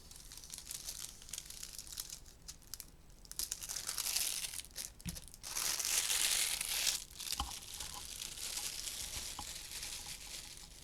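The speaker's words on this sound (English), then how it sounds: "I'm just going to roll that up a little bit and cut this off." A diamond painting kit sheet is rolled up and cut, giving close crinkling and rustling of plastic-coated paper with a few sharp snips. The sound swells loudest partway through.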